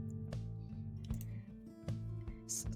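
A few scattered keyboard clicks sound up close over a low constant hum, sparse and irregular taps rather than continuous typing.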